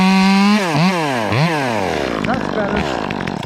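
Echo 2511T small chainsaw revs and cuts limbs on a big tree, close and loud, with sharp pitch swoops as the throttle rises and falls, then a rougher cutting buzz; someone speaks briefly.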